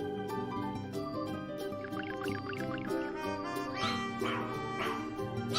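A dog yaps and barks a few times over the continuous music of a children's nursery rhyme, the barks short and fairly clear.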